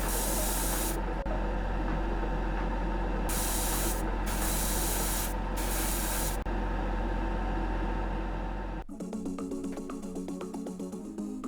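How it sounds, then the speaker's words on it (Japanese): Black primer surfacer sprays in loud hissing bursts onto a Gundam plastic model kit, several long blasts with short pauses, then a quieter rubbing texture at the end, no voices. "パテで埋めた肉抜き穴の部分に黒サフを吹いていきます"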